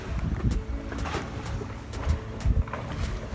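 A sailboat moves through open sea with wind gusting across the microphone, while water sloshes and low rushing rumbles rise and fall, close and fairly loud.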